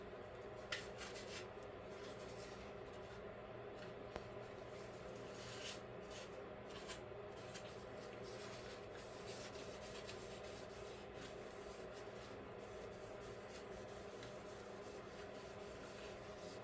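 A cloth rubs grime off the body of a plastic Atlantis 1957 Cadillac Eldorado Brougham model kit before priming, making a faint, continuous, soft scrubbing hiss close by.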